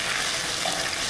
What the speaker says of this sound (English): Now to the pan, I'm going to add my butter